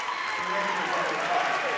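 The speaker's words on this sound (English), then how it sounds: "each one of the players gets an ovation from the crowd" A crowd at a girls' varsity high school basketball tournament game applauds as a player is recognized, a brief, steady patter of clapping heard in a gym.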